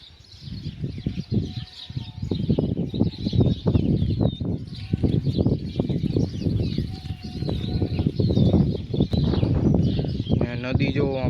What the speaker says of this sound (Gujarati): ને જો ચકલીઓનો અવાજ આવે સાંભળો।